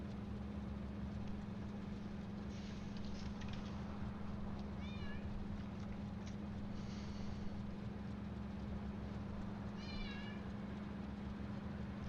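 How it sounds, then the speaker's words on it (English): A cat meows faintly twice, short rising calls a few seconds apart, over a loud steady mechanical hum and game background noise. "I am being led astray by a cat."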